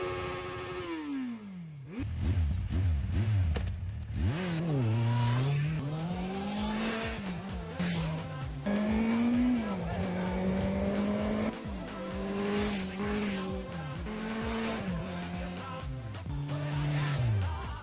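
Restored Kawasaki Z1000 motorcycle ridden hard, engine revving up and down through repeated gear changes with rising and falling pitch, loud and close, some tire noise, no talking.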